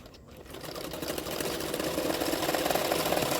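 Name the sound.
sewing machine stitching a blouse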